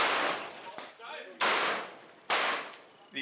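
Loud M1A rifle shots firing .308 ammunition at an outdoor range, three sharp cracks spaced about a second apart, each with a short decaying tail.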